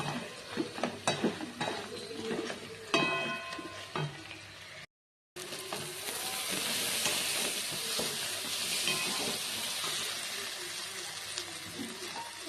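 Pressure-boiled dal stirred into vegetables sizzling in a pan for a vegetable semolina khichuri, with clinks and scrapes of stirring at first, a short break, then a loud steady hiss of frying.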